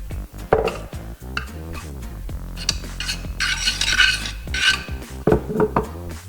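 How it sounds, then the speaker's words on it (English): Sauce spooned into the bottom of a baking dish for oven-baked cheese, with repeated close clinks and scrapes of a metal spoon against the dish in an uneven rhythm and no talk. "get some of your sauce and place a bit on the bottom"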